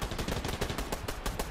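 Rapid automatic gunfire from the Fortnite video game rattles off in a dense, loud burst of close shots that repeat without pause.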